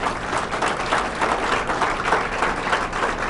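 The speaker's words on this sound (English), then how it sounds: "Can we give them a round of applause?" Audience applause at a university presentation hall, a steady dense wash of clapping from a crowd, moderately loud and continuous throughout with no pauses.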